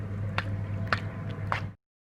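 Hands squeeze water out of puff pastry dough, making three wet squishes with small drips about half a second apart over a low background hum, close up before it cuts off.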